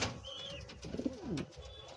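A soft, low pigeon coo rises and falls once or twice, close but quiet, from a pigeon farm, against faint background ambience and a distant chirp.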